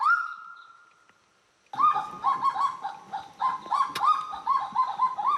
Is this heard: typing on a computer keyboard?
no